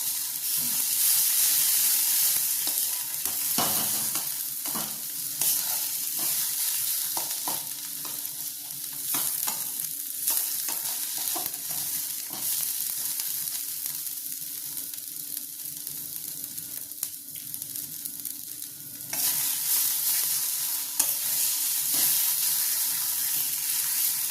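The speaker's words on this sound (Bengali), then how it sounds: "এবার আরও 2-3 মিনিট আমি একটু হাই ফ্লেমে এটাকে একটু ভাজা ভাজা হতে দেবো।" Steady sizzling of kharkol leaves frying in a hot pan over high flame, with repeated scraping and clinking of stirring throughout, no voices.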